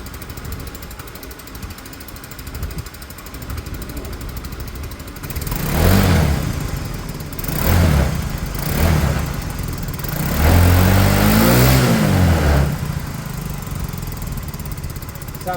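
A repaired Peugeot car engine, ignition fault just fixed, running steadily with a rough low rumble that swells in several louder revving bursts before settling back to idle, close and without talk.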